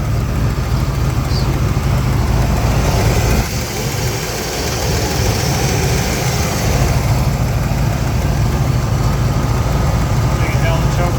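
The engine of a 1981 Pontiac Trans Am idles roughly and bogs when the RPM drops in drive. The low rumble is continuous and fairly loud, with a brief dip in level partway through.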